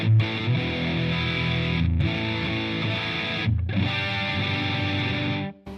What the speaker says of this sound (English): what the focus knob does is it takes out the mids. It gives you that scooped sound.